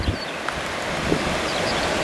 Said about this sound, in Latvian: vējš briesmīgs